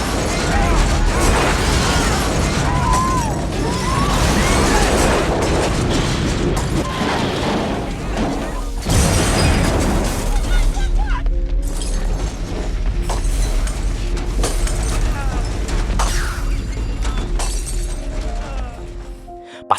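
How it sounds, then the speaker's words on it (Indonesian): A loud, dense blast of crashing and shattering debris as a city bus explodes in a film, followed by a rumbling, clattering aftermath with scattered metallic clinks and voices underneath. "sebuah bus kota milik Santa Monica Transit tiba-tiba meledak hebat tepat di depan matanya sendiri"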